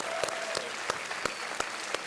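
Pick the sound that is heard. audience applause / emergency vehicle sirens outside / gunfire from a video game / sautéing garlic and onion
audience applause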